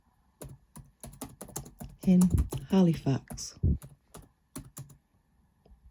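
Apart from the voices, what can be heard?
typing on a computer keyboard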